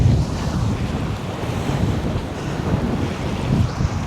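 Caribbean sea waves off a Jamaican island, a continuous rough wash of water and surf near a boat, with heavy wind buffeting the microphone throughout.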